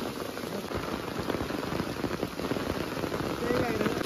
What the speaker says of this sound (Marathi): आणि पाऊस तर काही विचारूच नका थांबायचं नाव घेत नाही आहे